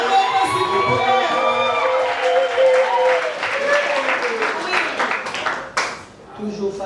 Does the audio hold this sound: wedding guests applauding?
yes